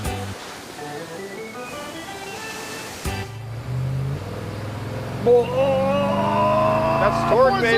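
A Ford 460-powered muscle truck on a beach revs up hard, its engine note climbing in pitch over several seconds after a sharp start, loud and close.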